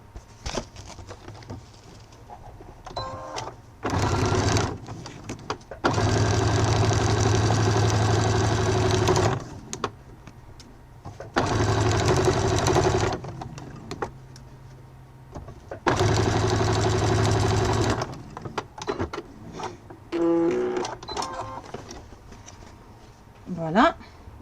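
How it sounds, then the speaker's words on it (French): Sewing machine stitching along the fold of a fabric wallet, in several bursts of steady mechanical whirring a few seconds each, with quiet pauses and handling noises between them. "Donc je vais coudre dans le pli"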